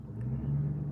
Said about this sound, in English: Sorry if you guys can hear the cars outside.